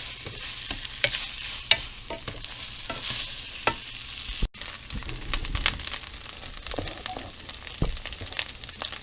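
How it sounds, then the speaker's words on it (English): Corned beef hash and onions sizzle and fry in a pan while being stirred, a steady crackling hiss with scraping utensil taps and clicks throughout. "Sizzle going on here, and we're going to get the corned beef hash and onions"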